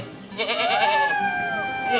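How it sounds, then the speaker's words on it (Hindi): A young goat in a cartoon bleats loudly in fear, one long wavering, quavering cry that rises and then slowly falls, close and prominent. "यह देखते ही बकरी का बच्चा डर जाता है और जोर जोर से चिल्लाने लगता है।"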